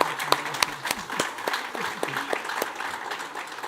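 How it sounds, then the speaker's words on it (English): An audience at a corporate sustainability report launch applauds contributors, steady clapping from many people with distinct close claps throughout. "Please stand up for a round of applause"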